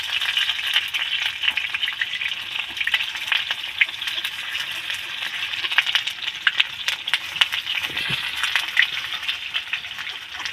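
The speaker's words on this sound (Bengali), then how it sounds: "ভাজতে দেখুন কত সুন্দর কিন্তু ভাজা হয়ে যাচ্ছে" A leftover-rice snack fries in a small amount of oil, giving a steady, close, bright sizzle with faint crackles and occasional stirring scrapes for about ten seconds, with no talking.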